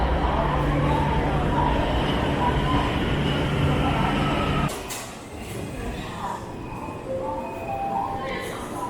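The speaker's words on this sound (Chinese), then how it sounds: "现在是在北京地铁1号线的大望路这一站。" Beijing Subway Line 1 train at Dawanglu station, a loud steady rumble and hum of the train filling the platform before cutting off abruptly, leaving quieter station ambience with faint tones and distant noise.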